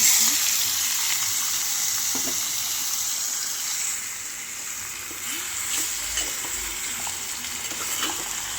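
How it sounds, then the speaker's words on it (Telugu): Chicken pieces frying in a pan with browned onion masala, a steady close sizzle with occasional stirring scrapes and clinks throughout. "దీంట్లో పక్కన పెట్టుకున్న చికెన్ ముక్కల్ని వేసుకోవాలి"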